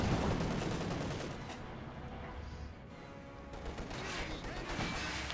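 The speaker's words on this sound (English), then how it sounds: "Maxim almost wiped up by Penetron's heavy mortar fire" Dense, continuous gunfire and mortar fire in the strategy game Company of Heroes 2, with rattling shots and heavy impacts layered into a busy battle din.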